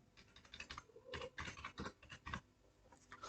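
Quick bursts of keystrokes on a computer keyboard as a mobile number is entered into an online form, close and moderately loud, in uneven clusters with brief pauses and no talking.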